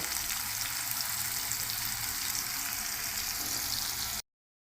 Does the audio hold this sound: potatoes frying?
yes